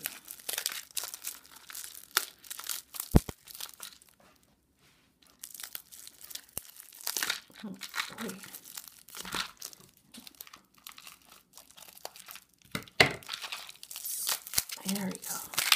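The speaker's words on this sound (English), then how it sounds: "It's a bubble wrap." Bubble wrap around a package of nail supplies is cut open and unwrapped, producing close, irregular crinkling and crackling bursts with a brief pause partway through.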